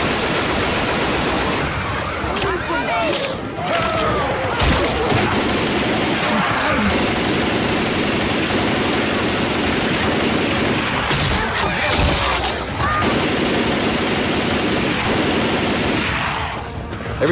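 Chaotic gunfire from several weapons aimed at a Tank in Left 4 Dead 2, a loud continuous barrage of overlapping shots and impacts, with occasional voices under the din.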